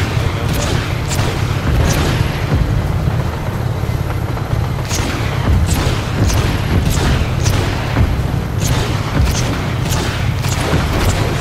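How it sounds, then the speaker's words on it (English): Explosions ring out as a battleship is sunk in the open-world game Just Cause 3, a string of booming blasts and sharp cracks over a steady low rumble, fairly loud and continuous. "Someone sunk my battleship!"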